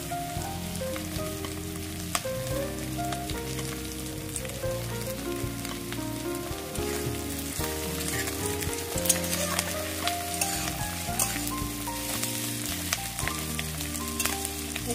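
Onion and chopped capsicum are stir-fried in a pan for gravy chowmein, giving a continuous crackling sizzle with faint stirring scrapes under steady background music, with no voices.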